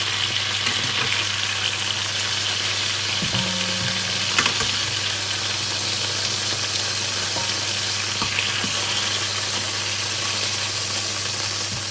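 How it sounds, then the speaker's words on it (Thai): Beaten egg stir-fried in a pan gives a steady, close sizzle, with a few soft scrapes and taps of the utensil; no one speaks. "ก็ผัดไข่ด้วยจ้ะนะ"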